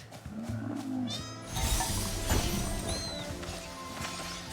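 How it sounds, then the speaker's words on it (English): Deer-like creatures in a video game let out meowing, cat-like cries in rising and falling tones, mixed with game clatter and music, fairly close and moderately loud. "Why do those deer things sound like cats?"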